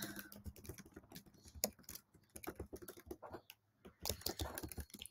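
Rapid typing on a computer keyboard while entering text into a website builder, a dense run of close, crisp key clicks with a brief pause near the end before the tapping resumes.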